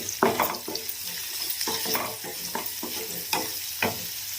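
Onions frying in a pan with a little turmeric and green chillies give a soft, steady sizzle, broken by repeated scraping strokes of a spoon stirring through them at close range.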